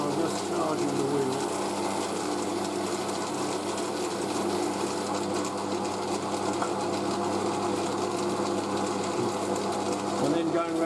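A buffing wheel charged with fine rouge abrasive compound mixed with grease, used for polishing spun pewter, whirs steadily and loudly throughout with a constant motor hum, with a voice talking over it.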